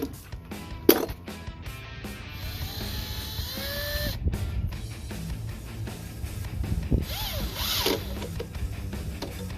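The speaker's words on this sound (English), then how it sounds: "we put a couple screws in here, and we put a couple screws through here, exterior screws" A power drill drives exterior screws into a wooden diagonal brace on a picnic table, giving short whirring bursts that rise in pitch, mixed with handling clatter and a sharp knock near the start.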